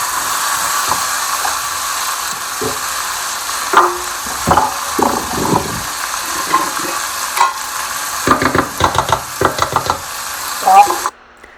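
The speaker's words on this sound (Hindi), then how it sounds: "साथ ही टमाटर डाल देंगे और अच्छे से इसको स्टेयर कर लेंगे" Tomatoes tipped into a hot pan and stirred, with sizzling frying under a steady hiss, then scraping and knocking of a spoon against the pan in quick bursts, under occasional talk.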